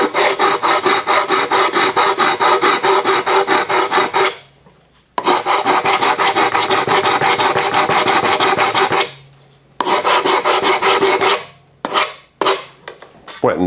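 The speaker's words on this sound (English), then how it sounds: "so let's just file this off a bit flatter than this" Hand file rasping across the cut top of a carbon bicycle steerer tube, a loud close run of fast rhythmic strokes broken by three short pauses, then a few quicker separate strokes at the end.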